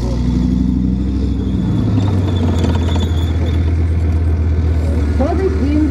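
A Pionierpanzer Dachs armoured engineer vehicle, 3.42 m wide and 42.5 tonnes, rumbles with a loud heavy engine drone that shifts pitch as it revs, steady and close, with a voice talking over it.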